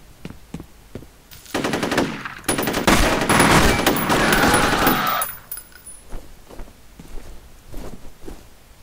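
Sustained automatic gunfire in the shooter game F.E.A.R., a dense loud burst of rapid shots lasting several seconds, framed by quieter footsteps and scattered clicks before and after.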